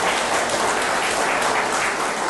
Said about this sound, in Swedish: Vi ger Bosse Nyberg en applåd.